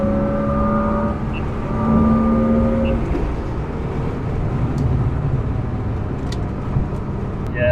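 BMW E36 M3 pulling hard in fourth gear, a steady loud engine drone heard from inside the car with rising tones and road rumble throughout, no break in the sound.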